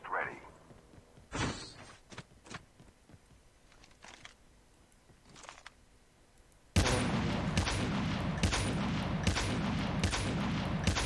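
Rapid gunfire bursts in the mobile shooter Call of Duty Mobile, faint scattered shots at first, then a sustained loud barrage of overlapping shots and battle noise in the second half.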